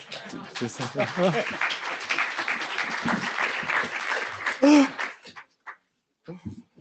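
Audience applause at a technical standards meeting session on energy-efficient networking, a steady burst of clapping under scattered voices that stops abruptly near the end, leaving a few quiet remarks.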